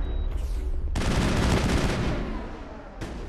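Gunfire in the video game Mass Effect: a loud, dense burst of rapid weapon fire that swells and then tails off, a brief pause, then another burst starting near the end, with no speech.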